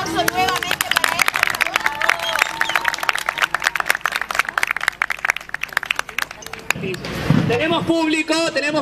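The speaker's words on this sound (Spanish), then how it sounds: "El aplauso nuevamente para él." An audience at a provincial theatre festival claps in dense, rapid applause that fills the space, with crowd voices and someone talking over it near the end.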